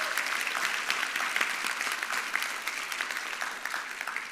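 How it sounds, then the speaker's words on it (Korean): Steady applause from a church congregation welcoming a visiting couple's parents, dense even clapping held throughout at moderate distance with no voices over it. "뜨거운 박수로 환영해 주시기 바랍니다."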